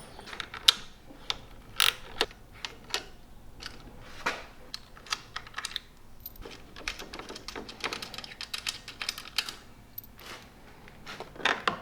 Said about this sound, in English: On this side there's 2 acorn nuts that are just a 1/2 inch nut, and you can just unscrew those.